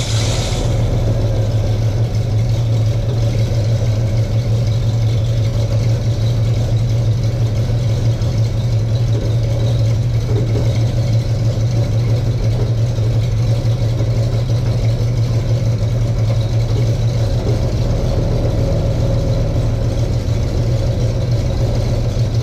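A 1977 Chevrolet Nova engine idling through a Summit 2-inch exhaust, a deep, steady low rumble held close and loud for the full length, with a slight lift in tone near the start.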